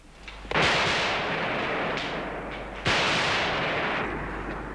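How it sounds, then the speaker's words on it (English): Heavy gunfire from troops making a final stand inside Georgia's parliament amid burning rooftops, two loud bursts with sustained roaring echo between them, heard without speech. "Firing over the burning rooftops at an opposition determined to overthrow the president"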